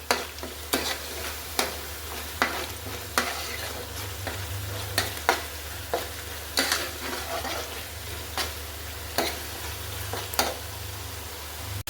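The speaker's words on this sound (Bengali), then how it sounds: "অনবরত নেড়ে নেড়ে কিন্তু আমি এটাকে কষিয়ে নেব ভালো করে।" Spice paste with ground nuts frying in a pan for beef kofta curry, a constant sizzle broken by regular scraping strokes of a spoon stirring roughly every second, close and clear with no talking.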